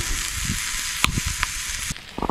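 Sauerkraut and pepperoni fry in a pot with a steady, close sizzle, broken by a few sharp clicks and stirring scrapes, and a brief burst of louder crackling near the end.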